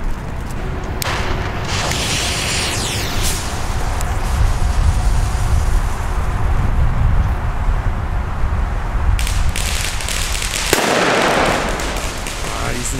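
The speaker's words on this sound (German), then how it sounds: "Und jetzt geht's weiter mit richtig schönen Blitzböllern." P1 flash-powder firecrackers go off outdoors, with a few sharp, loud bangs spaced several seconds apart over rumbling background noise.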